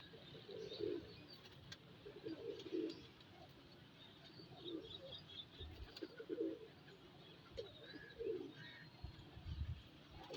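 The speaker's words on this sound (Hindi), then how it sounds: "और अब ये हमारा गोल्डन कबूतर है माशाल्लाह" Soft, low coos from a golden pigeon repeat in short bursts every second or two, faint and close, with light rustling and a few thumps in the background.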